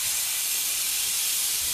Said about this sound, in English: Does the mic pick up the sizzle?